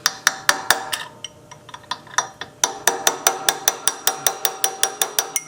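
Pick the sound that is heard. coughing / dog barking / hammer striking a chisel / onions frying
hammer striking a chisel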